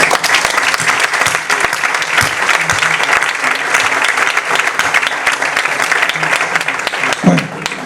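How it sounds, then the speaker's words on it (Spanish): An audience at a medical information conference breaks into loud, sustained applause, dense clapping that continues for several seconds with a few voices mixed in. "seguimos con los aplausos si queda alguna energía para la mesa"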